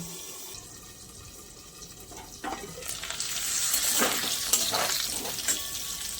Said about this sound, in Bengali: আলুগুলো ভাজা হয়ে গেছে, সেদ্ধও হয়ে গেছে।